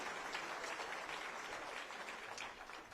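Audience applause at a BJP office gathering in Jaipur marking Shyama Prasad Mukherjee's death anniversary, a steady, fairly distant wash of clapping from a crowd that carries on for the whole stretch without speech.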